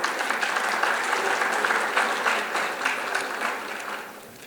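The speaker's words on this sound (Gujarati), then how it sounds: "જોરદાર તાળીઓ થઈ જાય." Hearty audience applause at a school lecture-series welcome, as a guest is greeted with a bouquet; many hands clap in a dense, continuous wash that eases off slightly toward the end.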